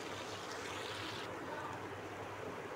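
Mutton mince kababs frying in hot oil until golden, a constant dense sizzle and crackle that fills the whole stretch at steady loudness, with no voices.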